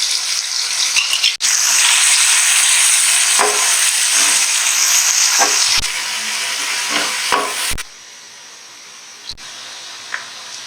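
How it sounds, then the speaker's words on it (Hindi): Cumin seeds and chopped onion fry in hot oil in a pan, a loud steady sizzle with occasional clicks of a spoon stirring, easing to a quieter hiss near the end. "अब मैं इसमें डालूंगी जीरा।"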